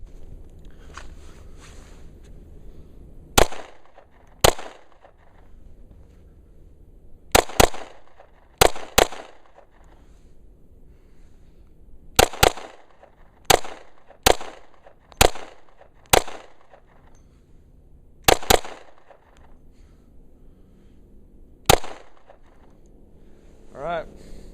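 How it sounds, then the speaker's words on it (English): A Glock 20c 10mm pistol fires hot Double Tap ammunition in a sharp, loud series of close gunshots, mostly quick pairs and clusters with short gaps, over quiet outdoor background. "For a 10mm, that's a hot round, and I'm shooting double tap ammo."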